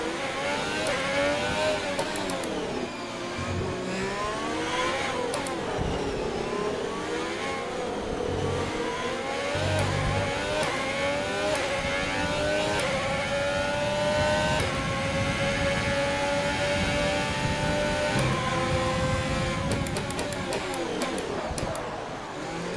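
An F1 2020 racing game Formula 1 car engine wails and revs continuously through shifts and braking, pitch rising and falling as the car locks up and struggles to turn.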